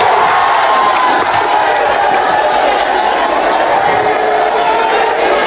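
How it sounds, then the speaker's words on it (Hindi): A large crowd at a Chirag Paswan rally in Muzaffarpur claps and cheers in welcome, a loud, continuous roar of voices and hands that stays at full strength from start to finish. "ताली बजा के एक बार जोरदार स्वागत करिए"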